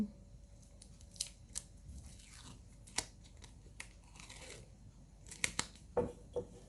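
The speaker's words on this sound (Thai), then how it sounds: "ก็จะตัดเทปกาวอีกนิดนึง" Scissors snip adhesive tape while a face shield is made from a plastic water bottle: a handful of sharp, close cuts spread irregularly over quiet crinkling and handling noise.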